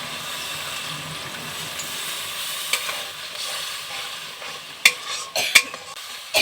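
Ginger paste and spice mixture being stirred in a pan with a little water for a vegetarian cauliflower roast, a soft continuous sizzle broken by several sharp scraping clatters of the spoon toward the end, close by, no talking.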